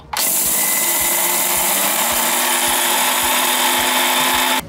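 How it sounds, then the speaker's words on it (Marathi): A mixer grinder pulverises urad dal into fine flour, its loud, steady motor whine running unbroken for several seconds before cutting off abruptly. "आणि आता मिक्सरमध्ये याचे छान पीठ तयार करून घ्यायचं"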